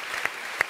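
A studio audience on a Turkish television talk show gives a brief burst of applause, with a couple of sharper individual claps standing out over the dense clatter.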